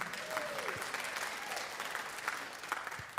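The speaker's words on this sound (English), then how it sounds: "give yourselves a round of applause again" A room full of people clapping at a college convocation, a steady wash of applause with scattered louder claps, no speech over it.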